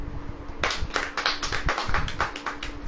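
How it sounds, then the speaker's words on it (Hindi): An audience at a Christian sermon gathering claps in a burst of brisk, fairly close hand claps, roughly rhythmic and sustained for a few seconds with little talk. "ताली बजाओ।"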